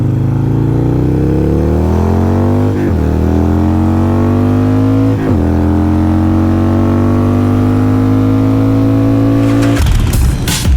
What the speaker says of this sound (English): welcome to the demo ride for the Harley-Davidson giveaway iron, which we have put a 1200 SNS Hooligan kit in it